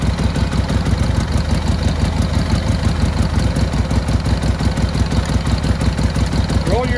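A motorcycle engine idling at a motorcycle museum event, a loud close rhythmic low chugging that holds steady throughout, with no clear start-up heard.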